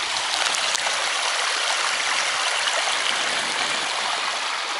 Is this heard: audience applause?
no